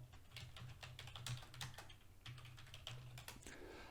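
Steady typing on a computer keyboard while filling in an Excel spreadsheet, crisp close key clicks in an irregular run of taps with a few short pauses, quiet and alone without talking.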